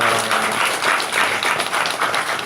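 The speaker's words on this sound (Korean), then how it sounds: "찬양 받으신 하나님께 감사 영광의 박수를 드리겠습니다" Steady applause from a church congregation during a Sunday service, dense clapping filling the whole stretch without pause.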